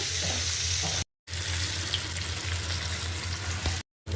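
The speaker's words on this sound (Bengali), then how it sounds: "আমি এই পাশের চুলায় ডিমগুলো একটু ভাজা নেই।" Eggs sizzle steadily in a frying pan on a stove, a continuous broadband hiss with a low hum beneath, broken by two brief silent gaps.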